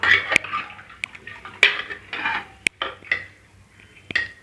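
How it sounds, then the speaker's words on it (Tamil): A metal ladle stirs rice and water for pongal, scraping and clinking around inside a pot in uneven strokes, with sharp taps against the rim between the stirring. "கரண்டி வச்சு கலந்து விட்டுப்போம்"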